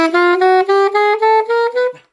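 A single sustained note on an Eb instrument played with the alternate side C fingering, held clear and steady for about two seconds with slight pulsing before it stops, heard alone.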